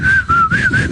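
A person whistles a short wavering tune to imitate a dog whistling a song, the clear, close melody bending up and down with no other sound beneath it.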